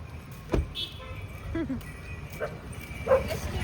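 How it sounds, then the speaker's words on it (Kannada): A dog barks a few times somewhere outdoors during a lit-up family celebration at home, with short sharp yaps over steady background noise and a passing car. "ನಾಯಿ ನೋಡಲ್ಲಿ ಬೊಗಳದು"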